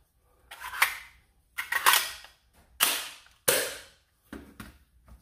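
S200S Viper and Fire Rat blasters, both top-prime models fed from eternal mags, fire five sharp shots at irregular intervals. Each shot is a close, loud snap or pop with a short decay, heard alone with no talking.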